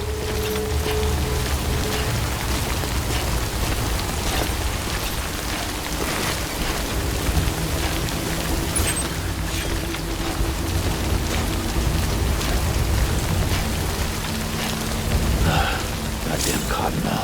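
Steady heavy rain pours across an outdoor landscape in the video game Death Stranding, a dense continuous hiss with low rumbling beneath and a voice speaking over it.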